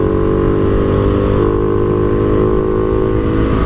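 A motorcycle engine runs loud and close for a few seconds, a steady harmonic drone with slight shifts in pitch and no voices over it.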